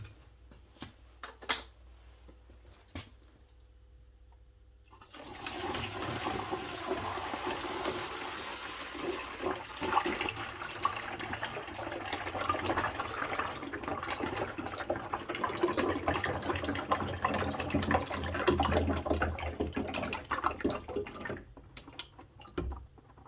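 Old cleaning liquid from a parts washer pours out of a bucket through a funnel as a steady, faint splashing trickle lasting about fifteen seconds, bracketed by quiet drips and handling clicks.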